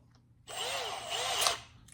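A cordless drill spins in reverse with a length of ethernet cable clamped in its chuck, a steady whirring motor run of about a second and a half that rises in pitch and strain briefly before cutting off.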